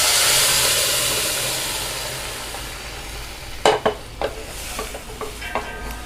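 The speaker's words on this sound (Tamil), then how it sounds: "இப்போ வந்து நம்ம ஆல்ரெடி நம்ம வேக வச்ச பருப்பை இதில் ஊற்றிக்கலாம்." Cooked moong dal hits a hot sambar pan with a loud hiss that gradually fades, followed by several close clinks and scrapes of a utensil against the pan.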